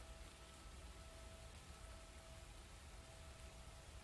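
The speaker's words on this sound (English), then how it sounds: "let's leave this rain sounds on" Steady recorded rain sounds play as a continuous broadband hiss with a faint steady tone, even and unbroken throughout, with no voices over it.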